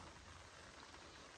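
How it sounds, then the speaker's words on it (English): Steady rain hisses on a surface outdoors during a weekend trip up north, a continuous broadband wash of drops with no pauses or voices. "And it's raining."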